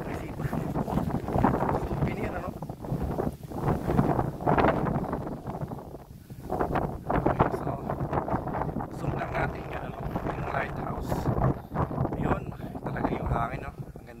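Wind gusts buffet an outdoor microphone near water with boats, a steady broadband rush that swells and dips throughout, with voices talking underneath.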